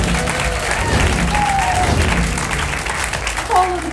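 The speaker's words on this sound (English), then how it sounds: "Give us a round of applause for all the acts you saw tonight." A comedy club audience applauds at the end of a show, a sustained mass of clapping with some crowd murmur mixed in, fairly loud and continuous.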